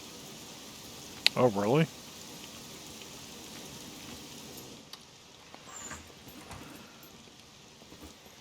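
Steady rain falls in the SCUM video game, a soft even patter throughout, briefly under a short exchange of voices near the start and a few faint clicks later.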